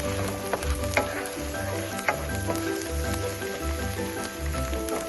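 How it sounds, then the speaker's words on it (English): Blended seasoning fries in a pan for scrambled tofu, giving a close, steady sizzle with scattered crackles and pops. No voices are heard over it. "and now I'm frying it up."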